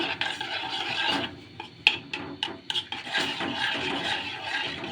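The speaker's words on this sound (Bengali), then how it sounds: "এবার এটা ভালোভাবে নেড়ে চেড়ে মিশিয়ে নেব" A spoon scrapes and stirs agar agar powder mixed into liquid in a cup, giving close, uneven rasping strokes with a few sharp clinks against the side.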